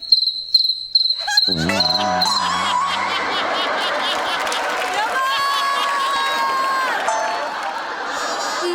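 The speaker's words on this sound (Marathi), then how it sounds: "मगाशीच्या रातकिड्यांचा आवाज आहे महाराज" High, rapid cricket chirps come first in short bursts, then a busy layer of tonal sounds and voices rises and continues beneath them.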